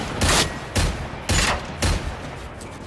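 Four heavy, evenly spaced gunshots from the Magnus rifle in Generation Zero, each a loud sharp crack with a short booming tail, fired deliberately about half a second apart.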